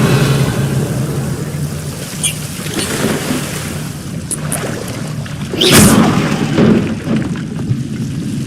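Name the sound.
Revelio spell being cast in video game Hogwarts Legacy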